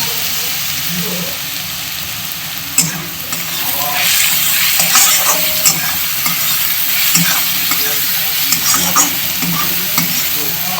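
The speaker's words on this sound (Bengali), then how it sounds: "পেঁয়াজটা আমার যতক্ষণ ভাজা হচ্ছে" Onions frying and being stirred in a pan while preparing homemade chicken kosha, a steady close sizzle with scraping stir strokes throughout, louder bursts as the pieces are turned.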